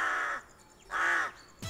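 A crow caws in clear, loud calls, two long harsh caws with a gap between and a short cut-off start of a third at the end, close and alone.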